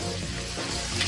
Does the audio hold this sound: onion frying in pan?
yes